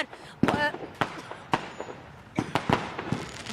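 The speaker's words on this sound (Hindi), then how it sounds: "पटाखे जलाए जा रहे हैं" Firecrackers burst in loud, sharp, irregular pops at a BJP political celebration in Uttarakhand, outdoors with a crowd murmuring and voices calling underneath.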